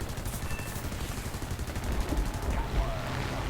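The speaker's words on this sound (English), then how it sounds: "Now, closing back on this BB1 and opening fire." Hurricane Mk I machine guns firing in War Thunder, a continuous rattling stream of rapid shots with engine drone underneath, steady and loud throughout.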